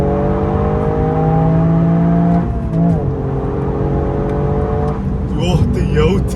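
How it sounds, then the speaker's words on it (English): A Toyota Yaris GR's three-cylinder engine revs hard while driving, climbing through gears with rising and falling tones, loud and close from inside the cabin, with brief shifts between pulls. "this is almost certainly the most impressive 3-cylinder car I've ever driven in all of my life"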